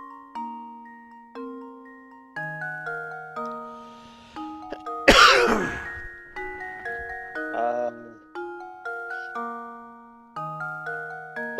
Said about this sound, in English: That was a cough.